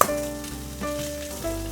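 Fish pan-fries in hot oil with a crackling sizzle, close and steady, with a faint tonal hum running underneath and no voices.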